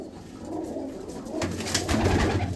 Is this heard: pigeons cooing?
yes